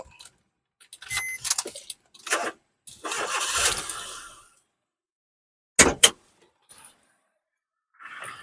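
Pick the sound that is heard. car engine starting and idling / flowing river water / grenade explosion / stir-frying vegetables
car engine starting and idling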